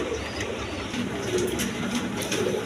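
Soft, repeated cooing of pigeons, including Lahori pigeons, at a pigeon market, fairly faint against a busy background murmur.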